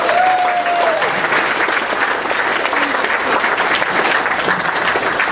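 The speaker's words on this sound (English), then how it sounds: "Give them a round of applause." A large audience claps loudly and steadily at a school district career and technical education welcome-back gathering, continuous dense applause holding at full strength from start to finish.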